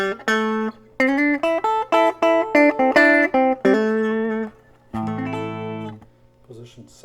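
A 1965 Vox Spitfire electric guitar with its two outer pickups on and the middle pickup off plays a run of clean, bright picked notes and short chords, closing with a sustained chord that fades away.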